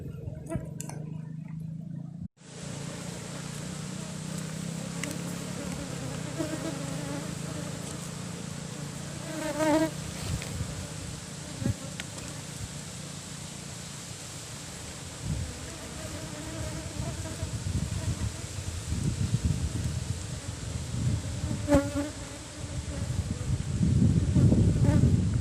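Apis cerana honeybees buzz as a colony is moved into a new box, a dense, continuous insect drone with louder swells near the microphone and faint voices beneath.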